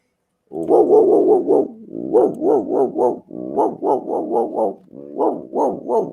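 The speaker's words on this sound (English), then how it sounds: "You can hear a dog searching for you inside the yurt." A dog sound effect played during a tabletop game session: loud, close, rhythmic bursts of barking and growling in four quick runs, each several yaps long, separated by brief pauses.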